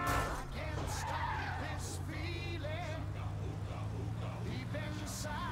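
Car tires skid and squeal in a driving video game, with wavering screeches over a steady engine drone and occasional impacts as the car smashes into things, while someone talks over the action.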